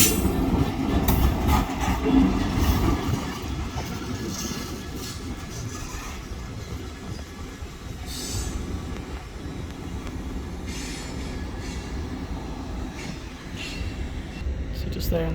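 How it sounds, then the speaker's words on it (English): A GB Railfreight class 66 diesel freight locomotive passing at Doncaster station, a loud, rumbling roll of wheels and wagons with rattling clatter, starting strongest and continuing steadily, while people talk nearby. "So it's a GB rail freight 66798."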